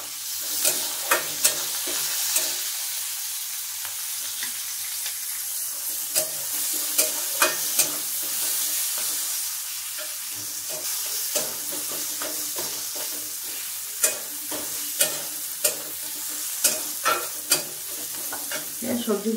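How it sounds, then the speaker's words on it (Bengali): Vegetables and onions fry in a pan with a steady broadband sizzle, punctuated by repeated sharp scrapes and clicks of a spoon stirring, close and fairly loud with no talking. "তো চলো এবার এইগুলো ভেজে নেবো"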